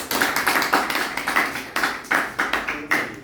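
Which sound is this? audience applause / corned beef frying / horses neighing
audience applause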